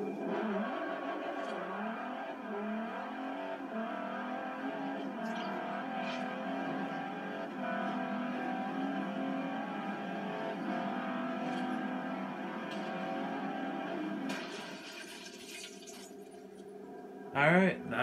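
Racing car engine in Forza Horizon, a sustained loud roar with shifting pitch as it accelerates, running steadily for most of the stretch before dropping off, with a brief burst near the end.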